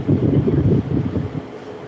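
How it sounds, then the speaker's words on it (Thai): Loud electric fan running overhead during an indoor livestream, a steady low whooshing rumble that dips slightly partway through, with no talking. "วันนี้เสียงพัดลมดังมากเพราะเปิด"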